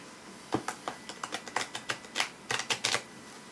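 Rapid crisp clicks and flutters, a series of quick snapping bursts of tarot cards riffling and tapping together as they are shuffled, close up with no talking.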